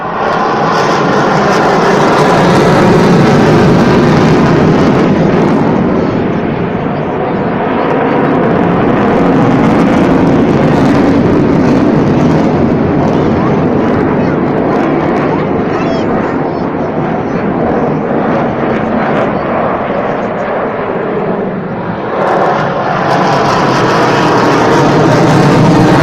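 At an air show in Malta, an aircraft engine powers up for a low-level tight turn, roaring loud and sustained throughout, with someone talking over it.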